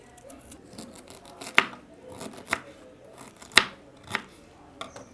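A knife scrapes the skin off a piece of ginger in a quiet kitchen, giving a series of short, sharp scraping strokes at irregular intervals, close up and otherwise still.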